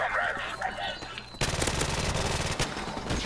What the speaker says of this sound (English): I'm just running around shooting.